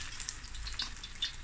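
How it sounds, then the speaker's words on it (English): Oil sizzles and crackles steadily as fish fries in a pan, with small pops scattered through the quiet frying. "So this is going to fry away"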